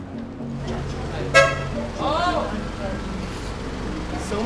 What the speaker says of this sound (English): So many honks.